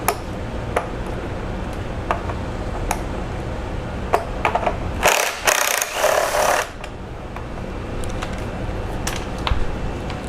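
A 10 mm ratchet works bolts loose on the intake manifold of a 2.4 MultiAir Jeep, giving sparse metallic ticks and clicks with a louder burst of rattling mechanical noise midway, no talking.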